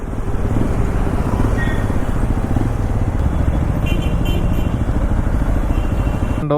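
A Hero XPulse 210 motorcycle being ridden, its engine a steady, loud drone that holds without a break from start to finish, with a sharp knock right at the end.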